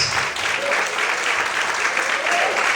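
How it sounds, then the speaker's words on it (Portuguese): A church congregation claps loudly and steadily through the whole stretch, a dense wash of applause with a few voices faintly mixed in. "Mais forte as palmas."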